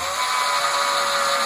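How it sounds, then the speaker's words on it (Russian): A 2 mm bit drilling a screw hole while fitting a sliding door: a steady, close, continuous high whine of a power drill running without a break and with no talk over it. "делаем отверстие, чтобы потом загнать сюда шурупы и прикрутить"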